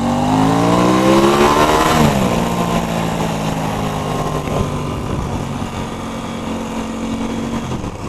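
An Aprilia RS660 motorcycle revs close by, its exhaust climbing sharply in pitch for about two seconds before dropping back to a lower, rougher engine note that holds steady.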